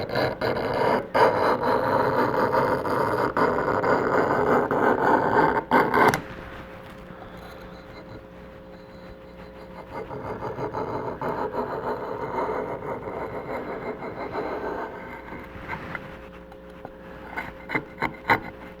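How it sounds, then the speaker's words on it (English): Steady rasping scrape of a blade working the backing off mirror glass, loud and continuous for the first six seconds, then quieter, lighter scraping strokes continuing over a low hum. "you can go in here and do some controlled"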